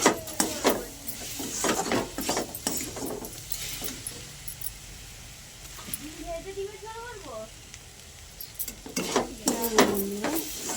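Two eggs cooking in a pan give a steady sizzle with scraping stir strokes and light utensil clatter, while voices talk over it in the middle and near the end.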